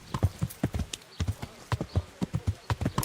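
Horse hooves clip-clop in a steady trotting rhythm during riding in the video game Kingdom Come: Deliverance, crisp close hoofbeats repeating throughout with no talk.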